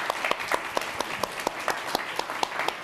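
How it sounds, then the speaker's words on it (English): An audience at a policy talk with an Assistant Secretary of Defense applauds, dense steady clapping with a few sharper individual claps standing out, close and sustained throughout. "So let's give him a round of applause."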